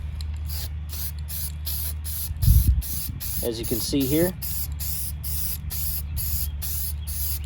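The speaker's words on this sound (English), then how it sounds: "And do a test spray" A spray paint can hisses in a steady test spray broken by short pauses, with someone speaking briefly partway through.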